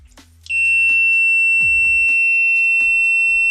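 A Mustool clamp multimeter gives a sharp, steady high-pitched continuity beep that starts abruptly and holds, with faint clicks and handling noises underneath.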